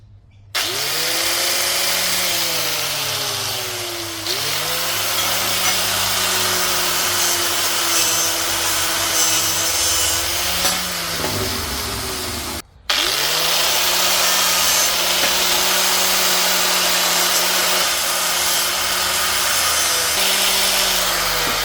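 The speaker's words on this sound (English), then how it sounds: "I'm going to clean them up, well, clean the rust off them" Rust is cleaned off old Volkswagen Golf engine connecting rods with a power tool, giving a loud continuous whine that shifts in pitch as pressure changes, briefly cutting out midway before starting again.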